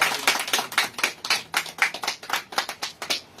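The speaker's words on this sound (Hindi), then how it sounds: "तालियों के साथ स्वागत करो" A small crowd at a political party joining event in Kishtwar claps in welcome, giving a brisk, steady run of applause that carries for several seconds without talk over it.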